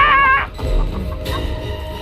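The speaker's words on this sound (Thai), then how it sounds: "ไก่มันไล่หลังมาอย่าง ดูเดือด" Chickens cluck in the video game Chicken Feet, a run of short clucking calls that is loud and close at first, then fades into low rumbling game sounds.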